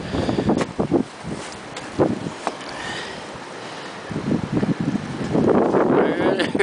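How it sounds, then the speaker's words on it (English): Strong wind gusts buffet the microphone outdoors, a rough, blustery roar that rises and falls with faint rustling beneath it. "It is very windy out here."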